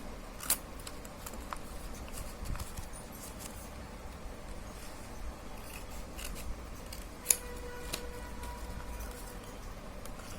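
Scissors snip through folded paper while an origami bow is being made, giving a steady run of close, soft crisp cuts over faint background noise, with a few sharper clicks standing out.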